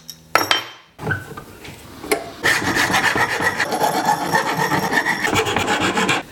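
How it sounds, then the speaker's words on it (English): A metal file rasping burrs off a Canon M6 camera microphone mount, loud and close: a few scattered scrapes at first, then continuous rhythmic back-and-forth filing strokes. "now we gotta clean all the burrs up with file and clean it up again"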